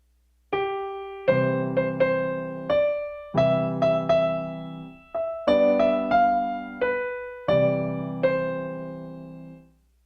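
A piano plays a simple, slow melody over full chords struck on each phrase, every note ringing clearly and decaying before the next, with no voices.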